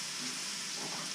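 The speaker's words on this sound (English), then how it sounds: "I'm going to use it all, and we'll start sauteing them down" Chopped green pepper and garlic sauté in a hot pan, giving a steady close sizzle and crackle with no break and no talk.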